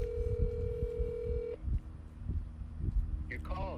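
A telephone number being dialed on a phone, a steady DTMF tone near the start followed by quieter keypad tones under low background noise and brief talk at the end.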